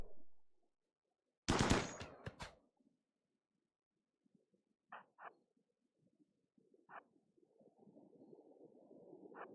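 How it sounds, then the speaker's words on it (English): A short, sharp burst of assault rifle fire in the video game Rimworld, followed by scattered faint pops and light game noises at low volume. "Ooh, that assault rifle."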